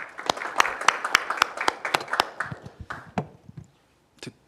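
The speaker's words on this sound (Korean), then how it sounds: "큰 박수로 모시겠습니다." A small audience at a Gwangju policy forum on distributed energy gives sparse, distinct claps that thin out and stop, followed by a couple of final claps after a short silence.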